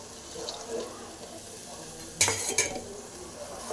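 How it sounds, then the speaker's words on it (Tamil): Tamarind water hits a hot pan of masala gravy for a bitter gourd dish, bursting into a sudden loud sizzle and splash over a quieter bubbling and stirring, with a second splash just after. "இப்போ வந்து புளி தண்ணி ஊற்றிடலாம்"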